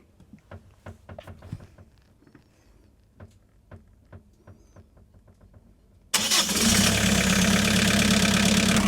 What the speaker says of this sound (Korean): 시동을 한번 걸어요.